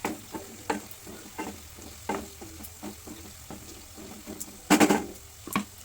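Purple long beans sizzle in a hot pan while a spoon scrapes and stirs them in intermittent strokes. A louder clatter comes near the end over the steady frying hiss.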